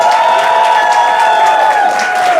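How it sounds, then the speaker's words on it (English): A roast battle crowd at a comedy show in Hartford cheers and claps in a loud, sustained wash of noise with no gaps, heard up close. "you gotta cheer and woo and clap for whichever one you liked most"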